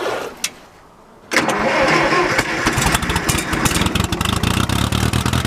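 A John Deere 1010 tractor engine with an underfueling problem cranks briefly, then catches at about 1.3 seconds and runs on with a loud, steady, rapid idle chugging close by.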